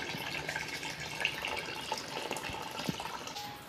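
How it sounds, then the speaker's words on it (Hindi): Water poured into a pot of Hyderabadi-style chicken tomato tahari, a steady splashing fill that runs continuously at moderate loudness, with a few small clinks and no talking. "अब मैं पानी डाल रही हूँ।"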